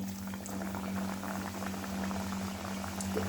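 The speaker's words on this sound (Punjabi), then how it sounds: "ਇੱਧਰ ਕੜਾਈ ਦੇ ਵਿੱਚ ਸਾਡਾ ਜਿਹੜਾ ਆਇਲ ਆ ਗਰਮ ਹੋ ਗਿਆ ਹੋਇਆ ਤੇ ਹੁਣ ਅਸੀਂ ਇਹਦੇ ਵਿੱਚ ਆਪਣੀਆਂ ਕਚੋਰੀਆਂ ਨੂੰ ਪਾਵਾਂਗੇ" Aloo kachoris sizzling as they fry in hot oil in a kadhai, a steady dense bubbling crackle that holds evenly throughout, close and moderately quiet with no voices.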